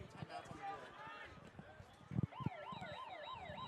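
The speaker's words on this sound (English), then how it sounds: "And that siren is nothing other than the halftime whistle." A wavering siren sounds at halftime of a high school football game between La Salle College High School and Father Judge, rising and falling in steady sweeps after crowd and field noise, with a commentator talking over it.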